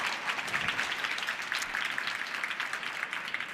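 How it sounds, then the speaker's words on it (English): A crowd applauds steadily, a dense, even patter of many hands clapping that holds at the same level throughout. "I want to, yes, give opportunities for a round of applause."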